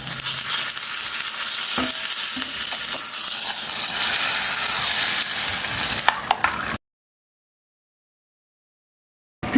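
Cumin, dried red chillies, curry leaves and urad dal tempering in hot oil, a close, loud crackling sizzle with a few spoon knocks for about seven seconds before cutting to silence, with a brief click at the very end.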